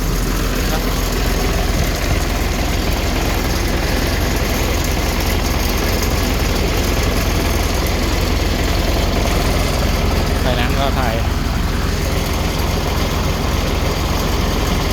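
A car engine idling roughly at low RPM, shaking with a steady low rumble that fills the whole stretch while someone talks over it.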